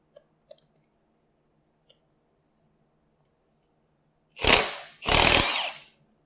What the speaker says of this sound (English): Milwaukee fuel impact wrench, which will remove anything.